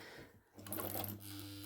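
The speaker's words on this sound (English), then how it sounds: "if I was just to start sewing without changing any of my dials" An Empisal Goldline Deluxe automatic sewing machine runs a zigzag stitch, a brief start followed by a steady close mechanical whir and rapid needle ticking over a low motor hum.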